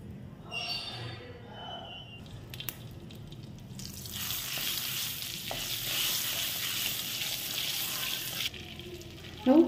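Butter sizzling in a heated pan while a palak paneer gravy for five is started, with a steady broadband frying hiss that builds after a few seconds of clatter and holds loudly to the end, joined by a louder burst at the close.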